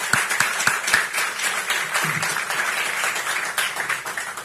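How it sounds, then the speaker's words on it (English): Audience applause fills a community luncheon hall at a chamber of commerce event, a steady wash of many hands clapping with a few sharper claps up front, continuous and fairly loud throughout. "So, really, give them a round of applause."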